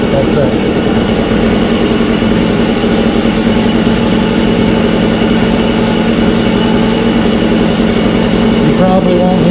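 An Echo 403T small two-stroke engine with a freshly adjusted Zama carburetor idles steadily and loudly up close, a constant buzzing drone that stays even throughout.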